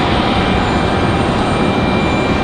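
An American Airlines Airbus A321 jet taxis at Raleigh-Durham International Airport, its engines giving a steady, loud, broadband roar that holds even throughout without a break.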